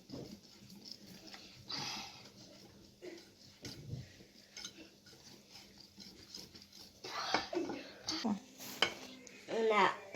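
Apple cake batter is stirred in a bowl, with intermittent scraping and clinking of a utensil against the bowl, quiet at first then louder bursts near the end, and a voice speaking softly at times.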